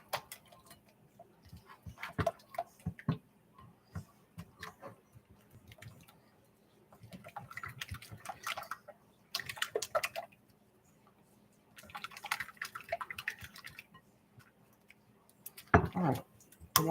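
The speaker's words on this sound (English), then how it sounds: "I'm going to stir that up" Sourdough discard blueberry muffin batter with egg stirred in a bowl, giving irregular clinks and scrapes of a utensil against the bowl with soft wet squishes, bursts of stirring separated by brief pauses.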